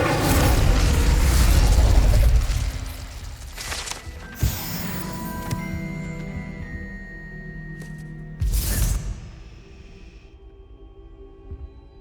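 A fire spell cast in Hogwarts Legacy gives a sharp burst near 4.5 s and a louder whooshing flare near 8.5 s over a low magical rumble and ambient game noise, then fades quietly.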